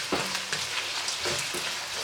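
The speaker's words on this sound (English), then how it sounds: "I'm literally just going to remove my lid and I'm going to give it a little stir" Ackee and saltfish sizzling and frying in a pot, with soft scraping as it is stirred a few times; steady crackle, close and fairly quiet, no talk.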